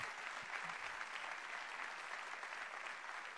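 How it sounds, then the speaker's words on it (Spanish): A comedy show audience in Córdoba breaks into applause, a dense, even wash of many hands heard from some distance, faint and steady throughout without any speech. "si van a aplaudir, aplaudan todos"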